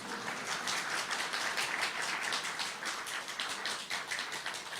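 A seated audience at a spiritual talk claps steadily in response, a dense, even patter of many hands that sounds a little distant and carries on alone without any voices.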